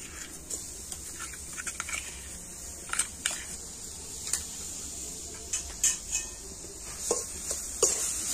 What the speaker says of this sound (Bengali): এবার আমি আখের গুড় আর নারকেলটা খুব ভালো করে মিশিয়ে নেব